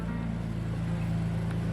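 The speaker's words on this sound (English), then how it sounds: "Right now we got it revving so we can check the oil level." BMW M3 F80 engine running at a steady elevated idle during a service oil check, a constant low droning hum with no rise or fall in pitch.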